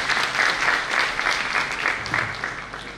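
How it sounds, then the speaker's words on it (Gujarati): Audience at a Teachers' Day function applauding to welcome a revered Bapu, a local legislator, to the microphone: steady, dense clapping from a crowd that carries through the whole stretch without a break. "પૂજ્ય બાપુને જોરદાર તાળીઓથી વધાવીએ."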